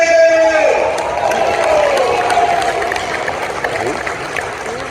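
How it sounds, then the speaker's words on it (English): A boxing hall of fame banquet audience claps and cheers as a guest is welcomed, a burst of crowd noise and whoops that swells at first then slowly fades. "clap your hands and make some noise for my man, Mike Tyson!"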